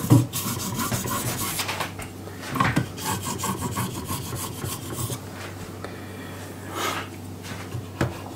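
A carbon steel blade stroked across a King Gold 8000 fine whetstone, giving repeated close raspy rubbing passes with brief pauses and a few louder scrapes.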